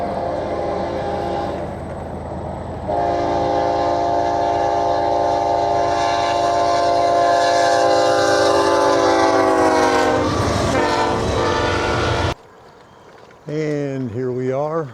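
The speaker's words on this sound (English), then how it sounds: "Here's something you see every day, a train." A train horn blows loud and sustained while rail cars rumble past near Indianola, Nebraska, then a second horn blast sounds after a brief drop in noise.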